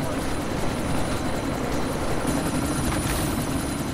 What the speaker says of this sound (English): Just walk straight up to the helicopter.